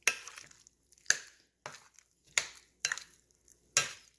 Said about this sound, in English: So I'm going to just mix this.